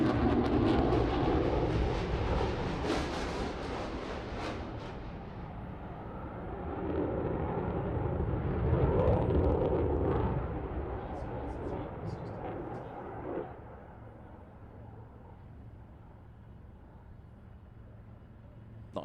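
A military fighter jet at the Farnborough airshow flies back in over the airfield's balloon sheds, a broad, rumbling engine roar that swells and fades over many seconds while a commentator talks over it.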